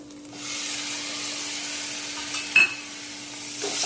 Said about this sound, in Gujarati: સરખી રીતે મિક્સ કરી દેવાનું